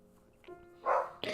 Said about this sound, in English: This dog.